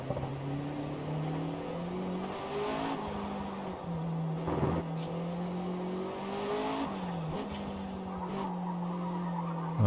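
Time attack car on the Fujimi Kaido mountain pass, engine revving hard through rising and shifting gears with tires squealing and skidding, sustained and fairly close.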